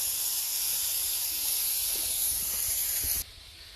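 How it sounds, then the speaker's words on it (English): Water sizzles on a hot outdoor cooking surface, a loud steady hiss that holds for about three seconds and then cuts off abruptly, leaving quieter background noise. "Get this stuff sizzling a little bit."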